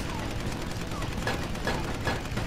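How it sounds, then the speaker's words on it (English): Rapid enemy gunfire batters a player's plane in the Battle of Britain air combat game Combat Wings, a dense rattling stream of hits over a constant engine drone. "And I'm being shot."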